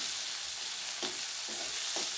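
Onions sizzle steadily in hot oil in a kadai while a mustard-paste folui fish dish is being cooked, with three distinct scraping stirs breaking through the constant hiss.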